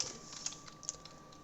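Keys tapped on a computer keyboard while entering Tamil text with a typewriter-style layout, a few soft, sparse clicks over a steady faint hum, close and quiet.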